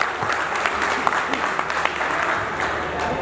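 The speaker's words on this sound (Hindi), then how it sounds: "एक बार जोरदार तालियों से उनका स्वागत।" A political rally crowd in Hapur breaks into applause, a dense, steady patter of many hands clapping with scattered louder claps, close and filling the space.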